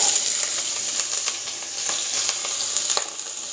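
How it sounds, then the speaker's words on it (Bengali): Raw potatoes poured into hot oil with green chillies for aloo bhaja, frying with a continuous loud sizzle and crackle, plus occasional sharp pops and spatters. "এবার আমি আলুটা ঢেলে দেব।"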